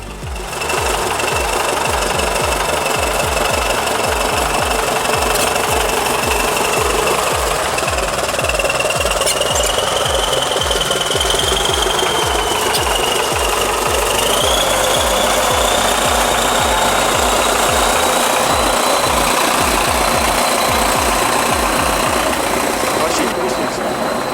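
A Soviet-era bulldozer, fully rebuilt and caked in mud, rumbles steadily up close, its engine a loud continuous rhythmic chugging that runs without a break and with no talk.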